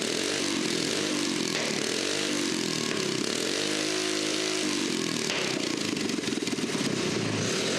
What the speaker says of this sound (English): the exhaust pipe started popping and spitting little bursts